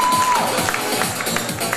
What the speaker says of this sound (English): Big round of applause to Nick.